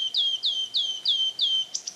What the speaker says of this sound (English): That's a wood warbler. It's a rare migratory bird.